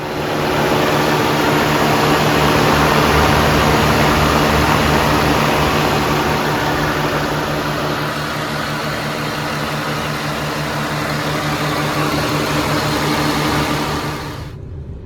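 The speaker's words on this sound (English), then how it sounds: "Maybe I got to start the engine so that it circulates it and gets the air out." A 1995 Acura Legend L 3.6 V6 car engine runs at a steady idle, close and loud, a constant low rumble with a faint whine, cutting off abruptly at the end.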